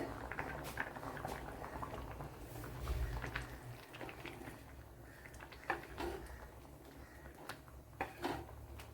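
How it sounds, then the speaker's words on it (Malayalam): A pot of vegetable curry made with pumpkin, cucumber, snake gourd and tamarind water bubbles at a steady boil, with soft popping bursts close by. "നല്ലതുപോലെ തിളച്ച് വന്നിട്ടുണ്ട്"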